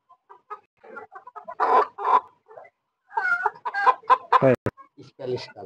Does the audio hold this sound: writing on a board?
no